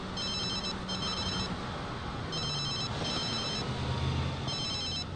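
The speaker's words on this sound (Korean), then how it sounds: "전화 빗발치네 유명해지니까" A telephone rings in The Sims 3 video game, bright trilling bursts repeating in a steady on-off pattern over low game ambience, with no voices.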